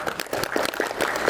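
Audience applause at a Hindi fortnight closing ceremony, a steady patter of many hands clapping at moderate volume for just over a second with no talk over it.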